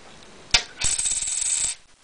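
A Swiss 5-franc coin drops with a sharp metallic clink, then rings and spins on a hard surface for about a second before settling.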